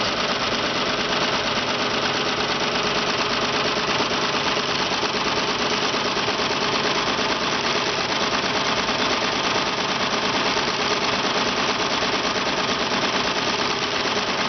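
Sewing machine running at a slow, steady pace during a water-repellent fabric demo, a continuous close mechanical hum with a faint rhythmic stitching texture throughout, no voices.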